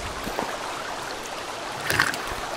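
Water being collected in Sons of the Forest: a soft, steady trickling and gurgling stream with a few brief splashy bursts, moderately close.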